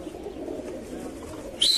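Pigeons coo softly over Larisa, Greece, a low murmuring call with a brief sharper chirp near the end, birds close and calling without any voices.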